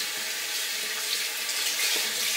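A faucet runs at a bathroom sink as a cloth is wetted, giving a steady close hiss of flowing water with soft splashing throughout.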